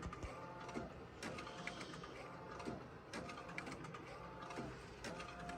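An Epson SC-F570 sublimation printer prints a cut sheet of paper. Its print head makes quiet, steady mechanical whirring with rhythmic shuttling passes and small clicks, close by and faint.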